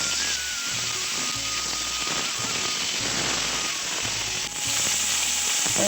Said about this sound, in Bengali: ওই মাছ ভাজা তেলের মধ্যে এবার ফুলকপি আলু ভেজে নেব।